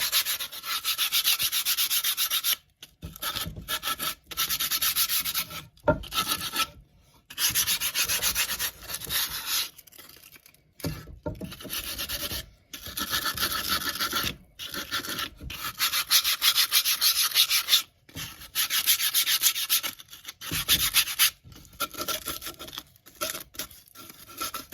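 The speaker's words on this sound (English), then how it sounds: "So these are boards that were cut, and so the edges need to be sanded." Cut wooden board edges being sanded by hand, a close, loud scratchy rubbing in repeated bursts of a few seconds each, separated by short pauses, with no talking.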